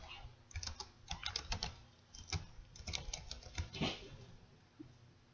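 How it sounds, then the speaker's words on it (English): A movie title is typed on a computer keyboard, with close, light key taps in quick irregular clusters separated by brief gaps and no speech. "So go ahead and type that in"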